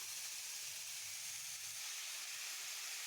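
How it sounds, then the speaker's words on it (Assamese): Steady, loud sizzling hiss of food frying in a hot pan, continuous and close, with no voices. "আৰু এইখিনি এতিয়া ভাজি ল'ম, ধুনীয়াকৈ মছলাৰ সৈতে মিলাই ল'ম।"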